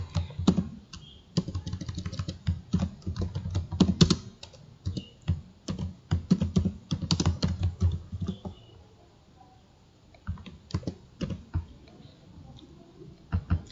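Computer keyboard typing while text is copied and edited, fast irregular runs of close key clicks in bursts with short pauses between them, alone with no talking.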